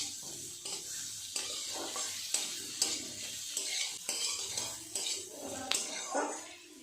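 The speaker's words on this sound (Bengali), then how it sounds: "দিয়ে দেবো কেটে রাখা টমেটো টমেটোটা দিয়ে আরেকটু নেড়ে চেড়ে নেবো" Pangas fish, vegetables and chopped tomato fry for chilli fish while a spatula stirs and scrapes the pan in repeated strokes. Clinks and a constant sizzle come through close and clear, with brief vocal sounds underneath.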